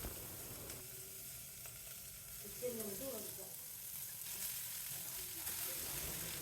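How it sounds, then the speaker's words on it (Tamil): Grated beetroot and onions sauté in a pan with a soft, steady sizzle, quiet and close, while a faint voice murmurs briefly partway through. "துருவின பீட்ரூட் எல்லாமே வெங்காயத்தோடு சேர்த்துட்டு இந்த வெங்காயத்தோட பீட்ரூட்டையும் சேர்த்து ஒரு 30 செகண்ட்ஸ் வரைக்கும் வதக்கிட்டு"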